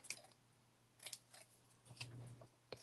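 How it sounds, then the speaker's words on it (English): Scissors snip through craft card paper in a few quiet, separate cuts spaced out over a faint background hum, close but soft, with no talking. "Snip off those sides."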